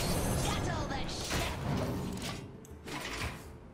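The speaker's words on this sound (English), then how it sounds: "the door opened itself?" A door slides open with a mechanical whoosh and rattle during a gaming session, loud and close, with some voices around it.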